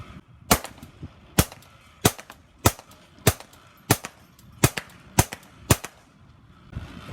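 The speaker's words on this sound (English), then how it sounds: "You notice there's no supersonic crack from that high velocity ammunition." Nine sharp, suppressed shots from a Ruger .22 pistol fitted with an Aklys OSS integral suppressor, firing high-velocity Remington ammunition at a steady, slightly uneven pace, each a short dull crack with no supersonic snap, alone and close.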